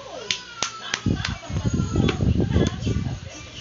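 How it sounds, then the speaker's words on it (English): A young boy claps his hands at home, a few sharp isolated claps at first, then a quicker cluster of claps while others talk and cheer nearby. "Clap."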